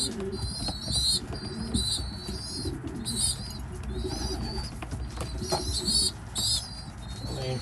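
Racing pigeons in a breeding loft coo over and over in a steady, layered chorus, with bright chirps from weaned young birds over a busy background hum.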